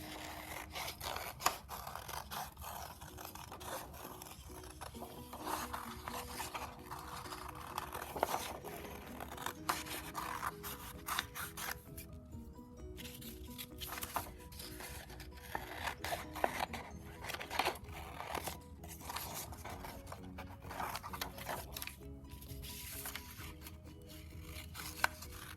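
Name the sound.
cutting out paper crescent shapes with scissors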